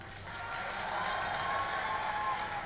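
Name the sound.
audience applauding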